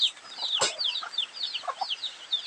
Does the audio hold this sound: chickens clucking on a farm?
yes